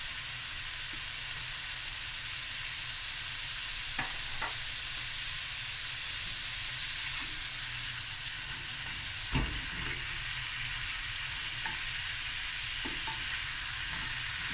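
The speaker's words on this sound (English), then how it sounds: "Garlic is cooking through, and that flavor from the Nigella seeds, absolutely delicious." Garlic and nigella seeds frying in a hot pan, a loud continuous sizzle and hiss filling the whole stretch, with a few faint clinks of stirring and no voices.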